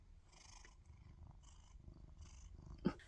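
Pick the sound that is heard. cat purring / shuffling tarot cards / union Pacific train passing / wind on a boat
cat purring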